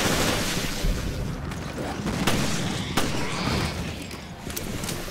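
A dense, continuous roar of gunfire and booming blasts from the game Resident Evil: Revelations, with sharp cracks near 2.3 and 3 seconds standing out and someone talking faintly underneath.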